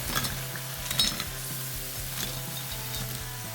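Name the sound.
cauliflower pieces deep-frying in hot oil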